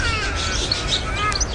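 Busy chatter of many budgerigars chirping and twittering at once in an aviary, a continuous high-pitched chorus close by with overlapping calls.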